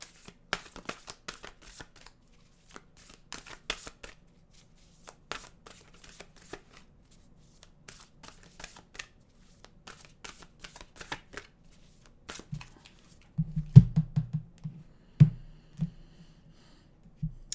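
Oracle cards being shuffled close by: a run of crisp riffling clicks and soft card slaps in irregular bursts, with a busier, louder flurry near the end and no talking.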